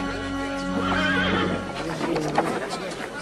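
A young mare whinnies loudly and close by in a Western setting, its wavering neigh rising and falling for over a second, followed by hoof shuffles and background crowd chatter with voices talking.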